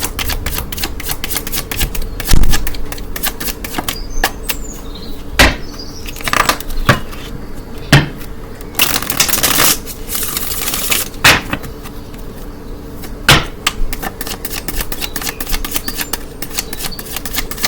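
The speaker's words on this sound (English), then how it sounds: "So let me get two more cards and then I'm gonna close the deck." A deck of tarot cards being shuffled and handled up close, with rapid riffling clicks, soft sliding bursts and occasional sharper card taps spread irregularly across the whole stretch.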